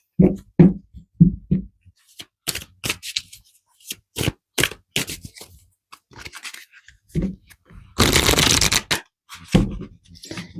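Tarot cards are handled and shuffled, giving a string of short papery riffles and taps with quiet gaps between them and one longer, louder shuffle toward the end.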